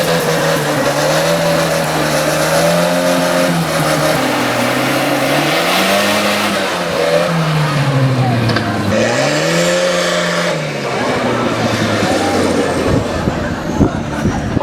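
A tractor engine revs loudly and continuously, its pitch swelling and falling in two long sweeps before settling, with a voice faintly present in the mix.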